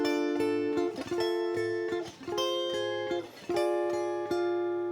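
Strummed ukulele chords carry a rock-blues passage in a steady rhythm, with bright plucked attacks and short muted breaks between the changes, close and alone without voices.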